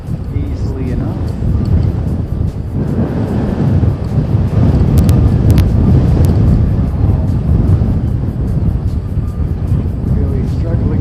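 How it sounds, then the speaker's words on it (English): An airliner going around in strong wind roars steadily from a distance beneath heavy buffeting gusts across the microphone, with a person speaking partway through. "This is the go around aircraft, NZ851."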